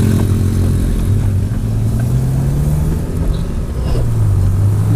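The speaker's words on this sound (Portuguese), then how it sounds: "Vamos esperar a moto passar, a moto da mulher." A motorcycle rolls past on a town street in Trairi, Brazil, its mid-pitched engine rumbling steadily and loudly, the note rising and dipping slightly as it goes by.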